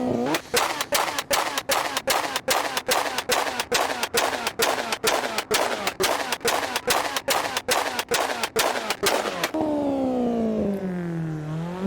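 Exhaust backfires from a T300 RS GT Lancer Evo in Assetto Corsa on a highway mod, a rapid string of about two dozen sharp gunfire-like bangs at an even rhythm, then a revving engine whine sweeping down in pitch.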